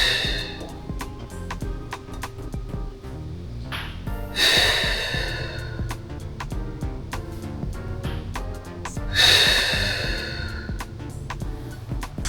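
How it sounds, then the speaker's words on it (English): Two deep, audible exhaling breaths during a Pilates core exercise, each a soft rushing whoosh a few seconds apart, heard close over a quiet background of soft music. "exhale"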